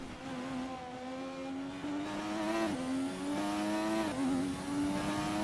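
A racing car in F1 2020 accelerates hard with a loud, close engine whine that climbs in pitch, dips briefly at each gear change and climbs again several times.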